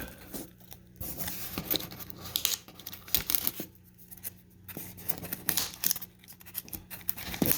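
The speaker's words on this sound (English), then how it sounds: "A lot of tape." Packing tape is ripped off a shipping box that holds a coral delivery. It comes in repeated close, loud tearing and scratching strips, with short pauses between pulls and no talk.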